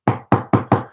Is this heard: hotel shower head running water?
no